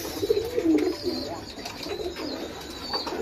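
Pigeons in a breeding loft in Bangladesh, with parents tending eggs and chicks, give soft low cooing calls that rise and fall throughout, close and moderately loud, with faint background chirps and no speech.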